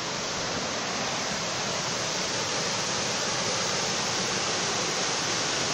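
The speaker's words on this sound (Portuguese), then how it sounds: "E a água faz toda essa queda aqui, esse poção para tomar banho." A waterfall at Balneário Cristalino in Paraíso do Norte, Mato Grosso, cascades into a bathing pool, making a steady, dense, full-band roar that holds constant throughout with nothing else standing out.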